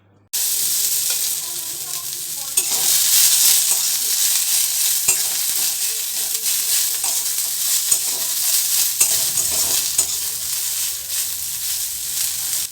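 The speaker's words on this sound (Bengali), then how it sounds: "তেলটা গরম হয়ে গেলে প্রথমে কয়েকটা গরম মশলা ভেজে নেব।" Whole spices, including cinnamon pieces and a dried red chili, fry in hot oil for an egg and potato dish, giving a continuous bright sizzle with occasional crackles and no talk.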